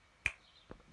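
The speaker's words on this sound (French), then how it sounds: "Claquement de doigts." Two crisp finger snaps, the first sharper and louder, the second softer about half a second later, close by against a quiet background.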